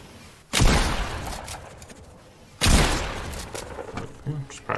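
Two loud, close shotgun blasts from a video game aim trainer, fired about two seconds apart while flicks are practiced, each a broad booming crack with a short decaying tail and soft clicks between.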